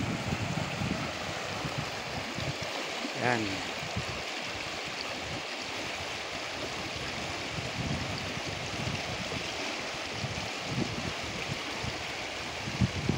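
Steady broadband rush of the Labangan River flowing in Naujan, Oriental Mindoro, Philippines, continuous and fairly close, with a brief voice and faint wind mixed in.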